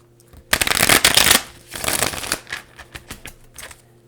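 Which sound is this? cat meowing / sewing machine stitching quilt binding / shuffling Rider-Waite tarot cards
shuffling Rider-Waite tarot cards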